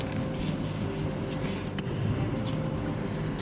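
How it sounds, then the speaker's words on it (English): Spray paint hissing from an aerosol can onto an epoxy countertop, a steady continuous spray lasting the whole moment at close range with no talking. "It dries really quick once it's sprayed out."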